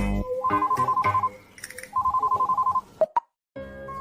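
A telephone rings with an incoming call, two bursts of rapid trilling electronic tone, loud and close, followed by a short click and a pause.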